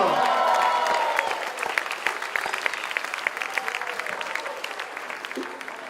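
Audience at a conference panel forum breaks into strong applause and some cheering. The sound is loud and sustained at first, then thins into scattered claps over six seconds.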